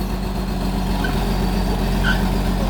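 An old truck's engine idles steadily without revving, a constant low rumble from close by with no talk.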